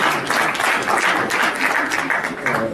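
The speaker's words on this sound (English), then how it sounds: "Big round of applause." Warm, sustained round of applause from a conference plenary audience, dense and even throughout the short stretch, fairly loud and close.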